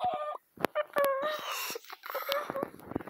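Short harmonic clucks and squawks of a Minecraft chicken, several in quick succession, bright and fairly close, with some digital game sounds around them.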